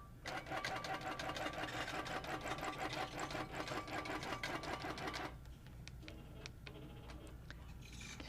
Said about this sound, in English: So we'll baste down this side real quick.